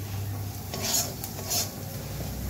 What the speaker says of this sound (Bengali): পেঁয়াজ, রসুন আর কাজু একসাথে ভালো করে লাল লাল করে ভেজে নিচ্ছি।